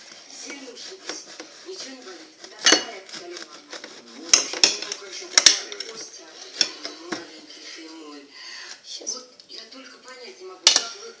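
A meat knife is picked out from among cutlery in a kitchen, with scattered metallic clinks and clatters, a few sharp bright knocks, and a person talking quietly in between.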